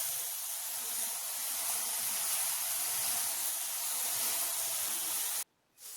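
Masala spices frying with onion and garlic in a pan make a steady, close sizzling hiss that holds evenly, then cuts out abruptly just before the end.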